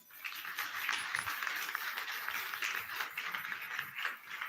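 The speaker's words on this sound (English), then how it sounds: "A big applause for Scott." Sustained audience applause fills a conference hall at a product management event, dense steady clapping from many people, loud and continuous with no speech over it.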